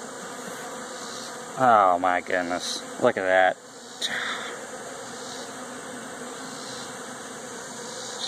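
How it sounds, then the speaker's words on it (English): Honey bees buzz near a hive in a constant low drone, with a man exclaiming over it partway through. "Let me just look at all those bees."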